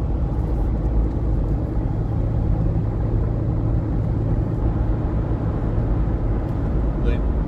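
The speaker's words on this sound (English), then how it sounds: "I want to take you on a test drive, my Toyota FJ Cruiser convertible, 2007" A 2007 Toyota FJ Cruiser convertible on a test drive, a loud, steady rumble of road and engine noise with wind, continuous throughout and heard from inside, with speech mixed in.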